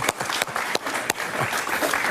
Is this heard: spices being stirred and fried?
no